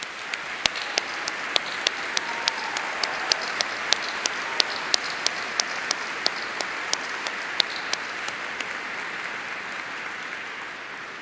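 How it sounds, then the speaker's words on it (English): Sustained applause for educators at a high school graduation ceremony, a distant audience clapping steadily while sharp single claps from nearby stand out at a regular pace. "please give them a round of applause."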